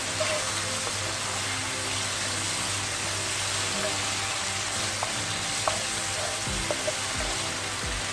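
Chopped green chili being stirred into fried dal mash in a hot pan, a steady broadband sizzle of frying throughout with a few faint spoon scrapes and clicks, no voices.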